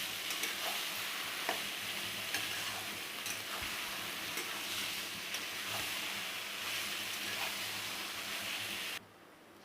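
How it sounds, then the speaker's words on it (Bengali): Continuous crackling sizzle of capsicum frying in a pan, with occasional stirring clicks, cutting off abruptly near the end. "আমার ক্যাপসিকামগুলো ভাজা হয়ে গেছে"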